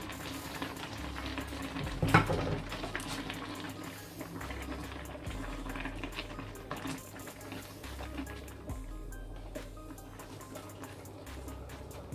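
A pan of water on the hob boiling for cooking pasta, with a steady low bubbling and simmering texture throughout and a brief louder clatter near the start, no talking.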